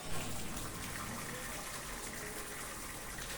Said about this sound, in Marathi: आम्ही वॉटरफॉल सुरू केलं आहे फक्त प्राणींसाठी, पक्षींसाठी